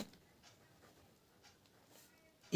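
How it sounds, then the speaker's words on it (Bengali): A pen scratches across paper while someone works through sixth-grade maths problems, faint intermittent strokes and taps in a quiet room. "লিখে নিচ্ছি দেখে দেখে লিখব"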